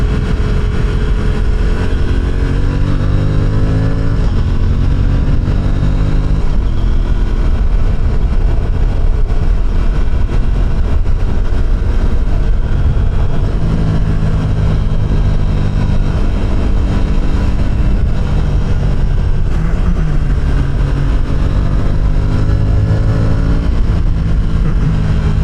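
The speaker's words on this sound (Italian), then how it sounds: "Adesso vediamo come lavora la moto in discesa e in doppio." An Aprilia RS 457 sport motorcycle engine drones continuously while riding downhill with a passenger, its pitch rising and falling as it shifts through gears, loud and close throughout.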